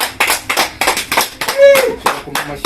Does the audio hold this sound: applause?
yes